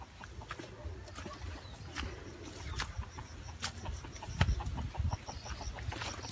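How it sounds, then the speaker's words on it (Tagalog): Chickens clucking and calling outdoors at close range on a farm in Cebu, intermittent bursts over a low rumble, with scattered bird chirps in the background. "Ayun yung mga manok namin."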